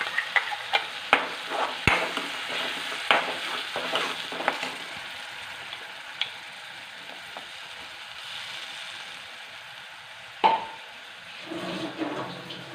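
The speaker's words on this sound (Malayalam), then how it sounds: "പിന്നെ തക്കാളിക്കയുടെ ഒരു പച്ച ചുവ മാറട്ടെ. അതുവരെ ഒന്ന് ഇളക്കാം." Ground tomato paste fries in a pan while a spoon stirs it, producing a steady, soft sizzle under repeated nearby scraping strokes and a few sharper knocks, with no voices.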